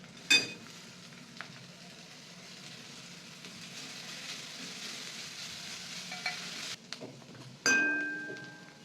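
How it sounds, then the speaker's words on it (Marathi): Garlic and green chillies roast in a pan for a spicy black urad dal amti as coriander goes in. A steady sizzle with stirring runs throughout, and sharp utensil clinks sound at the start and near the end. "लसूण हिरवी मिरची चांगलं भाजून घेतलं आता कोथिंबीर घालायचं ह्याच्यात"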